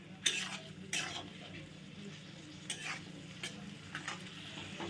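Raisins and cashews fry gently in ghee over a low flame, a soft continuous sizzle broken by several sharp clinks of a spoon against the pan as the mixture is stirred.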